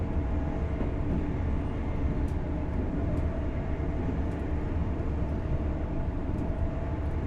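A freight train rolls alongside on the East Coast Mainline in the simulator game Train Sim World 4, a loud, steady low rumble and roar of wagons that holds constant throughout, with no talk.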